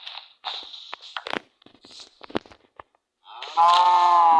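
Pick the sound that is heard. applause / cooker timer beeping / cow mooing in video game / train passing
cow mooing in video game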